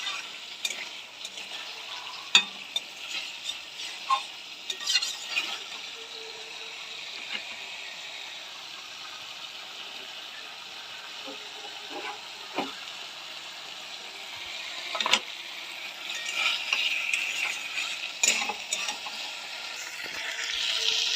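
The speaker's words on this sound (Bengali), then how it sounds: "মশলাটা আমার কষানো হয়ে গেছে।" Spice paste for a thin rohu fish curry frying in a pan, a continuous close sizzle broken by scattered spatula scrapes and taps over about twenty seconds, with no talking.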